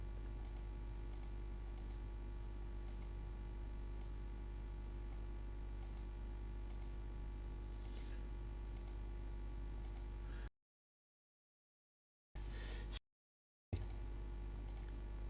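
Computer mouse clicks while a shape is drawn point by point in graphics software, a light repeated clicking at irregular intervals over a steady low hum, with a couple of brief dropouts into silence.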